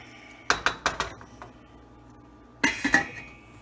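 A lid clinks down onto a metal pot of rice cooking on the stove: a quick run of four bright metallic clinks, a pause, then another cluster of rattling taps as it settles, close and alone.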